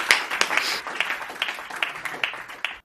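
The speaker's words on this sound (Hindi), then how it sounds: "एक बार जोरदार तालियां बजाकर सुरेश यादव जी को निमंत्रित करिए।" Applause from an audience at a Hindi kavi sammelan (poetry gathering), welcoming a poet to the stage: a short, moderately loud patter of many hands clapping, with a few sharper claps standing out.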